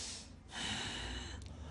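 A voice imitating the gasping breath of a dying man, a sharp drawn-in gasp followed by a longer, rough, breathy exhale, close and alone.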